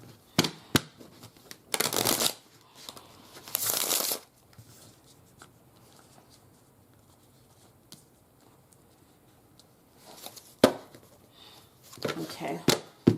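A deck of playing cards being shuffled in a few loud, close bursts, with long quieter stretches and a sharp tap between them; no voice is heard.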